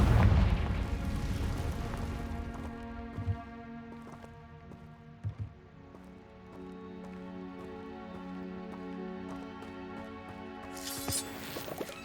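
A Confringo fire spell explodes in Hogwarts Legacy, opening with a loud, rumbling boom that settles into a tonal magical drone. Smaller thumps land through the middle, and a bright crackling burst flares near the end.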